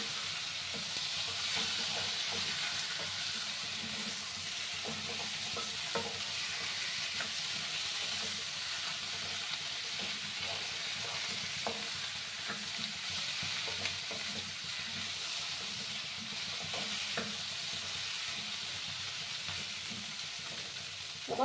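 Gathi kochu taro pieces sizzle in hot oil in a pan, a constant close frying hiss with frequent soft scraping and tapping as they are stirred and mixed throughout.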